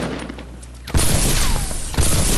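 Rapid bursts of gunfire in the Fortnite video game, loud and close, with a sharp onset partway through and a second heavy burst near the end over continuous battle noise.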